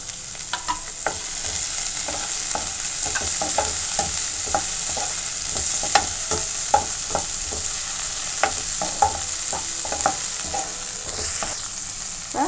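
Peas are stirred into frying potato masala in a pan, a steady sizzle of oil under repeated scraping and knocking of a spoon against the pan, close and clear, with no voices.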